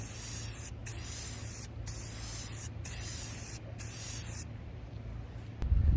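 Rustoleum satin canyon black spray paint hisses from an aerosol can in four steady bursts with short pauses, close and loud over a low background hum, ending in a brief thump.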